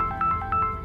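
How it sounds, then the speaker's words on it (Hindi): A mobile phone ringtone plays in a domestic drama scene, a repeating melodic electronic tone pulsing in short bursts, close and clear with no talking over it. "मेरी दुनिया का फोन आ रहा है"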